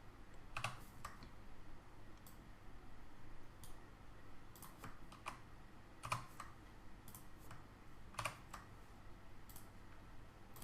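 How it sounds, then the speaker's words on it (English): Keystrokes on a computer keyboard come in light, scattered clicks, some in quick bursts and others spaced apart, faint and close over a low steady hum. "let's type in a simple title for our very basic website"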